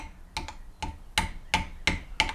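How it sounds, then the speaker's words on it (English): Someone uses a non-steel hammer to lightly tap a trailer wheel bearing seal into place. There are about seven crisp, evenly spaced taps, close and clear, with no talking. "You don't want to use a steel hammer. You could, but you just want to lightly tap it."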